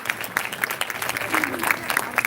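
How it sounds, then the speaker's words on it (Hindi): Audience at a Shivratri celebration claps, a short burst of scattered, uneven hand claps from a modest crowd, moderately loud. "तालियां।"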